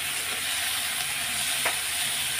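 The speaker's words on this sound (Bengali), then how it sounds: "তাই এই যে শাক ভাজা" Radish greens with turmeric frying in a pan make a steady, close hiss of sizzling throughout, with a faint scrape of stirring partway through.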